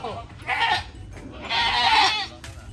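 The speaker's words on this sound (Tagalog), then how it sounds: "Lumabas na yung mga kambing." Goats bleat on a farm in Negros, Philippines, in two drawn-out, wavering calls nearby, with low rumbling background noise between them.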